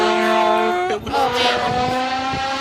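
A trumpet played to imitate a motorcycle, blaring sustained brassy tones that dip and swoop like an engine revving and shifting, loud and close.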